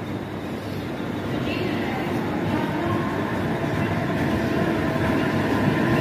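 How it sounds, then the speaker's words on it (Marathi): Suburban local train pulling into Goregaon station, a steady loud rumble and rolling rail noise building slightly over six seconds, with platform ambience and no clear speech. "ही आली ट्रेन।"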